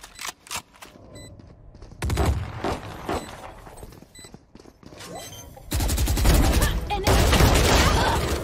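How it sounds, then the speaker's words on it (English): A swarm grenade erupts in Valorant amid a pro match, bursts of rapid explosive pops and gunfire crackling in clustered volleys, growing louder and denser toward the end, with caster talk faintly underneath. "Swarm grenade out"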